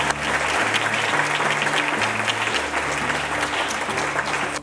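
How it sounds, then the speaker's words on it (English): A large audience at the Ranchview High School 2019 honor graduates ceremony applauds, a loud, sustained roar of clapping with low music tones pulsing beneath it. "Let's give one more round of applause for all of our honored graduates today."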